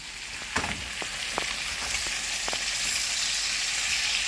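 Chicken pan-frying in a skillet as it browns, giving a steady, close hiss of sizzling fat with a few sharp pops and crackles early on, growing slightly louder toward the end with no voices.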